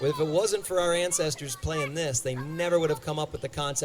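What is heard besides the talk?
No everyday noises stand out.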